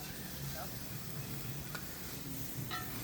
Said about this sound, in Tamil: நம்ம பிச்சு போட்ட அதாவது கட் பண்ணி வச்ச தோசையை தூக்கி அதில் போட்டு ஃபுல்லாக மிக்ஸ் ஆகிற மாதிரி நல்லா கிண்டிக்கலாம்